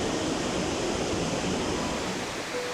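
A river flows past a forested bank with steady, dense rushing water, constant and fairly loud throughout with no voices.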